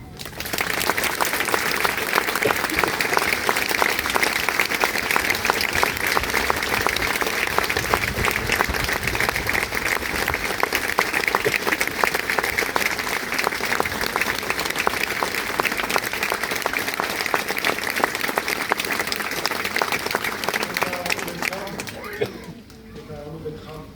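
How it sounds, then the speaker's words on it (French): A large public crowd applauds security and rescue forces at a statue inauguration in Bry-sur-Marne, sustained dense clapping close and loud for over twenty seconds before tapering off at the end. "Et je demande s'il vous plaît au public de bien vouloir les applaudir."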